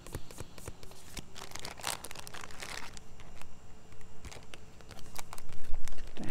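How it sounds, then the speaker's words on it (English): Papery crinkling and soft riffling of tarot cards being shuffled, close by, in irregular bursts without talk. "Give these a shuffle."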